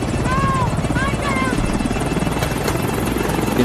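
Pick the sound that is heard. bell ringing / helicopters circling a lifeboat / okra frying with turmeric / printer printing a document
helicopters circling a lifeboat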